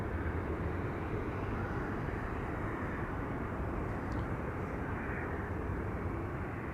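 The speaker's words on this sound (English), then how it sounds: "First up, this 737-800." A Boeing 737-800 airliner arriving at Amsterdam Schiphol produces a steady, broad engine roar throughout, loud and sustained with no voices over it.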